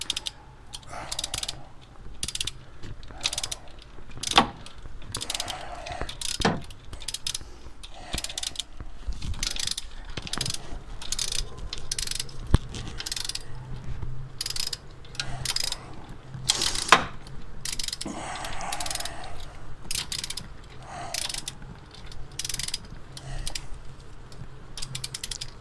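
A ratchet wrench tightens a glow plug in a Dacia engine with a rapid, close series of dry clicking ratchet strokes in repeated bursts, with brief pauses between them.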